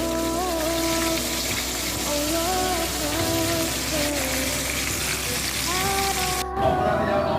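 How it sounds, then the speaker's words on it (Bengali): Battered eggplant fritters (beguni) deep-frying in hot oil give a dense, steady sizzle like rain, loud and continuous, with no one talking over it. "এদিকে বেগুনি ভাজা হচ্ছে"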